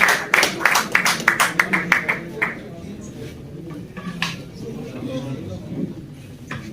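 A burst of clapping from a small audience at a pigeon tournament prize ceremony in Kashmir, about a dozen sharp claps over two seconds that fade into crowd murmur and background talk.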